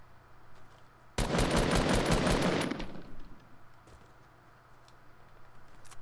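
A burst of rapid gunfire, a hunting rifle in the Fortnite Battle Royale video game, cracks loudly for about two seconds, then fades into low background game ambience.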